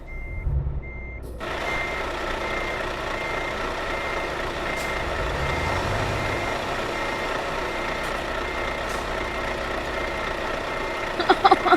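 A truck in a driving video game gives repeated reversing beeps in a steady rhythm over a droning engine, with a short burst of louder noise near the end and no talking.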